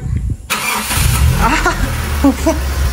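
A Toyota Corolla engine starting after a short silence, with a low, sustained engine rumble that follows. Faint voices are heard over the idling.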